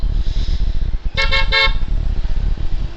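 Traffic rumbles through a jammed Sherpur city street as a nearby car horn gives three quick toots in a row, then the engine noise carries on.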